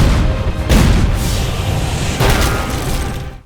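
Cannon fire from the anime Attack on Titan, a dense, continuous rumbling blast with heavy booms and mechanical clatter, loud and sustained throughout with no pauses.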